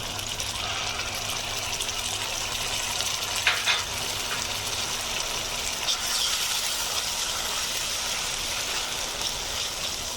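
Ginger-garlic paste fries in hot oil over browned onions, giving a steady, close sizzling hiss that runs the whole time with only slight swells and no voices.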